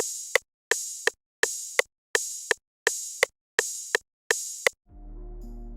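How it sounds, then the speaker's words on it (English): Seven evenly spaced, sizzling open hi-hat hits ring out one after another in a steady rhythm, followed by a low bass tone coming in. "I just kept the drums simple. Open hats."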